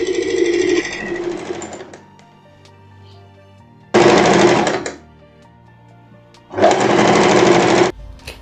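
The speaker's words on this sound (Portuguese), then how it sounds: "vamos costurar agora as laterais da nossa blusa" A sewing machine stitches the side seams of a plaid blouse in two loud, steady bursts of rapid mechanical whirring, separated by quiet pauses, with a shorter burst at the start.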